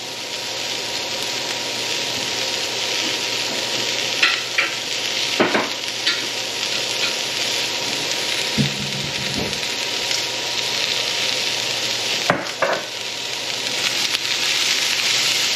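Jalapenos frying in a pan for hot sauce, a loud, steady sizzle running the whole time, broken by a few brief clatters and knocks from utensils.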